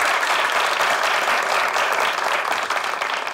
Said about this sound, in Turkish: Bir kere bir Ayşegül ve Hilmi'ye bir alkış